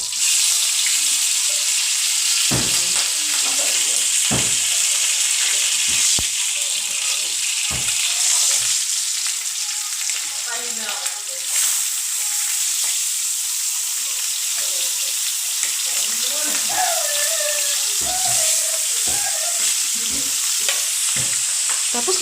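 Moringa leaves stir-fried in a pan, a steady close sizzle of frying with intermittent scraping and stirring clatter throughout, no talking.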